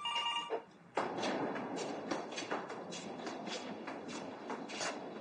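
A telephone rings in a household scene, its bell sounding in repeated short bursts over a soft background, fairly close and clear.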